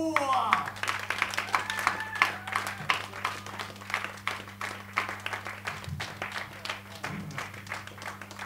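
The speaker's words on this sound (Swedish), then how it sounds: "En stor applåd!" Concert audience applauding at a live rock show in Motala, Sweden, a steady wash of many hands clapping over a low sustained hum, with some crowd voices mixed in.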